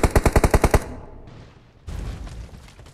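Automatic gunfire in the Free Fire mobile game rattles out in a loud burst of about eight rapid, evenly spaced shots, then gives way to quieter, rumbling game noise.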